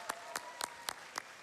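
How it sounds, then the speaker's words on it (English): An audience applauds at a Games Done Quick speedrun marathon event after a Wind Waker run. A few faint, separate claps come at a slow, even rhythm, sounding sparse and distant. "Give yourself a round of applause, please."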